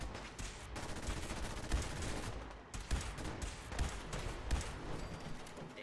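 Gunfire in the video game Fallout 4, a dense, continuous fusillade of shots with sharper cracks standing out every second or so, fairly loud and steady throughout with no talk over it.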